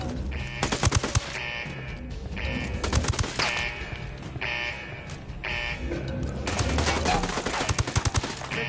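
Automatic weapons rattle in rapid bursts during a firefight in Ghost Recon Wildlands, loud and close, with repeated volleys separated by brief pauses.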